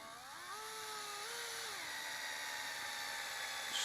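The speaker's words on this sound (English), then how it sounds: "Screwing this shock tower into the bulkhead." A small power driver whines steadily as it screws a shock tower into the bulkhead of a Tekno ET48 2.0 RC truggy during a build. The tone is faint and close, its pitch shifts slightly, and no one speaks.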